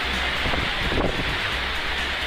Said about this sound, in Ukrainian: Крижані уламки, зливи та потужний вітер